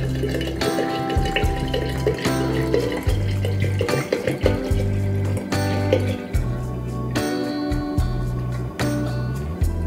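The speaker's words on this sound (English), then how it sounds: "So I'm gonna mix in 3/4 of a liter of 100 proof vodka." Vodka, 100 proof, is poured over lemons in a home kitchen while making limoncello, a close, gurgling liquid pour with repeated glugs and splashes.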